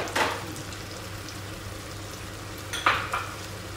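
A few cloves drop into hot oil for chicken majboos and sizzle, a soft steady hiss broken by two brief crackling bursts of spattering, close by, with no talking.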